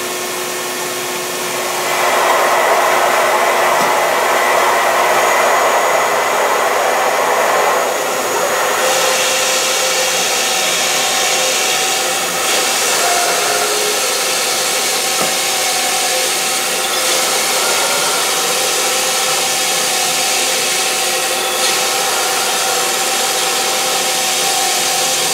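An Emcoturn 140 CNC lathe drills a bolt hole circle in a plate for a motor mount, giving a loud, steady high whirring and hissing grind that holds through the run with small shifts in tone.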